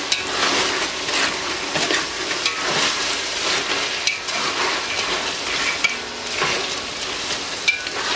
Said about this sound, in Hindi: प्याज 1 दरमियानी साइज़ की आप डालेंगे, फाइनली स्लाइस कर लें। ज़रा थोड़ा मिक्स करते हैं पहले।